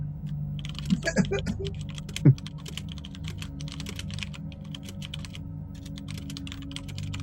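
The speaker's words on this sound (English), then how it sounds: "That's some angry typing going on." Fast typing on a mechanical keyboard, a steady stream of sharp clicky keystrokes with a few louder clacks, close and alone without any talk.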